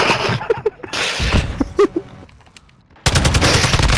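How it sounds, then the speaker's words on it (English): A machine gun in Modern Warfare rattles off in loud, rapid bursts, pausing briefly before a final dense volley, with scattered game sounds in between. "I've got a machine gun, so if anyone comes close, let me know"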